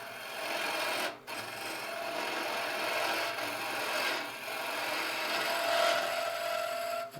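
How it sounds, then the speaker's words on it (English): Hollowing tool cutting into a small turned wooden egg cup on a lathe, a steady close rasping scrape that runs continuously with a brief break near the start and small dips as the cut shifts. "Let's get in a little deeper now and waste wood out of here."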